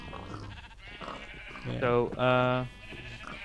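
A sheep in a Minecraft-style video game gives two loud, close bleats back to back, with talk before them and quiet chatter after.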